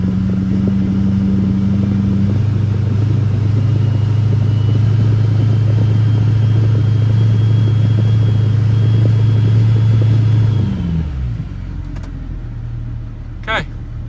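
Truck diesel engine running after cranking with more fuel, a loud, close, steady low rumble with a droning hum that drops off toward the end into a quieter idle, followed by a faint short squeak.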